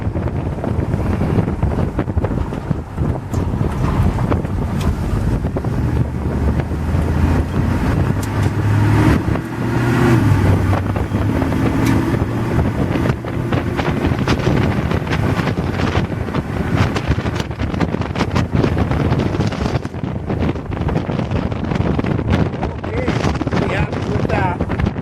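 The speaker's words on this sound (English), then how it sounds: "She'll be a little bit breezy here going into the wind." Steady, loud wind buffets the microphone as a 1959 GMC Apache Fleetside truck drives into a headwind. The road and engine rumble runs continuously underneath, and the gusting roar lasts the whole stretch.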